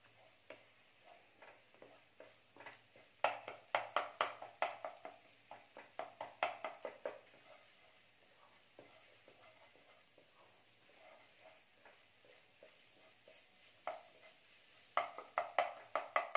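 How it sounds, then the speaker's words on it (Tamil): Egg stuffing for Ceylon egg parotta is chopped and stirred in a frying pan, with soft sizzling beneath repeated clusters of sharp spatula taps and scrapes coming in bursts, fairly quiet and close. "இப்போலேருந்தே அதை நல்லா கொத்தி கொத்தி கிளறிட்டே இருந்தீங்கன்னா தான் அது வேகும் போதே நல்லா பொல பொலன்னு வரும்"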